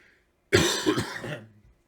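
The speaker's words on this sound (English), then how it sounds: "And this cough doesn't help." A single harsh cough erupts close by, a rough throaty burst lasting about a second before trailing off into quiet.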